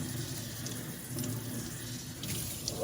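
Water runs steadily from a tap into a big sink, a constant close, moderately quiet splashing rush with no voices.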